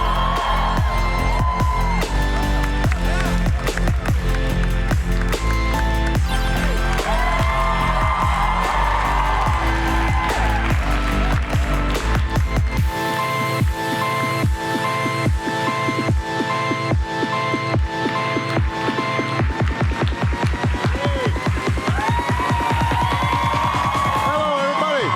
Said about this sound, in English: please give a warm round of applause for the 44th President of the United States